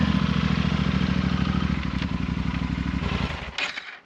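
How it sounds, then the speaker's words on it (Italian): A motorcycle idles close by in a remote Italian village, its steady low engine throb continuing for about four seconds while it is shifted and pushed, with a few light scraping clatters near the end. "Ora sposto un po' la moto però."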